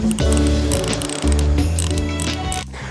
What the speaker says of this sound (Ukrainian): Чуєте, як у мене моя трещітка? Така грубовата.